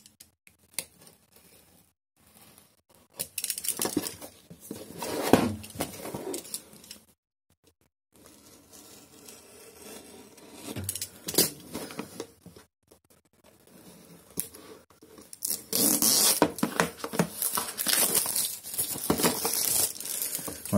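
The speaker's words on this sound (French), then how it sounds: "j'ai été chercher le petit tuteur, hein, parce que le film plastique il a l'air assez bien collé." Plastic film being cut and peeled from the packaging of an Oclean Z1 connected toothbrush, close crinkling and tearing in uneven bursts with brief pauses, growing louder and busier toward the end.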